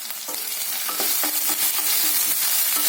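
Ginger garlic paste sautéing in a pan for a bitter gourd curry, a loud continuous sizzle with repeated stirring scrapes close by.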